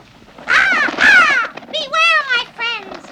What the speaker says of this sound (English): There's that raven again.